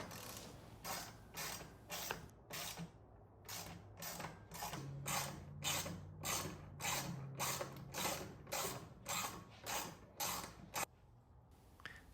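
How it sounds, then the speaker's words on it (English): Bolts are tightened on a Jeep off-road light bracket with a wrench: a long, even series of sharp close ratchet clicks with a faint creaking undertone and no speech. "Now, tighten all the bolts."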